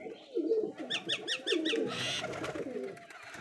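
Frightened pigeons, a male and female pair, giving soft repeated throaty coos and fluttery calls close by, in uneven bursts over a quiet background.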